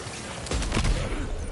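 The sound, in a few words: gunshot headshot in video game Death Stranding 2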